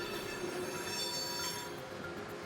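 Freight train at a container rail terminal, wheels squealing in a sustained high metallic screech over a rumbling rolling roar, loud and continuous.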